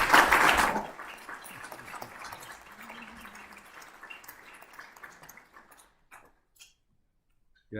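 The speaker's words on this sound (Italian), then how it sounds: "grazie prof per aver dato l'applauso" Applause from the audience at an Italian marketing society's annual plenary conference, a loud burst at first that thins into scattered clapping and fades to near silence.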